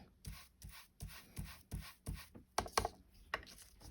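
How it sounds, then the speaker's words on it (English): Ink is rubbed onto the edge of a handmade Valentine card in soft, rhythmic scuffing strokes, close and quiet, with a few slightly sharper rubs near the end. "And I just started rubbing the ink on it."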